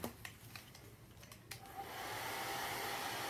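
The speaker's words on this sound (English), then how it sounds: "with my handy dandy blow dryer, let me put this inside" A handheld blow dryer runs steadily, used while assembling a miniature chest of drawers, its constant airy whoosh rising and settling into a continuous roar after a few faint handling clicks.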